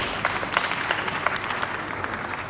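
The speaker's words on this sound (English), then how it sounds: "so I think that deserves a round of applause." Applause from the audience at a tourism leadership forum in a conference centre, a moderate, steady spatter of many hands with a few sharper claps standing out, heard briefly.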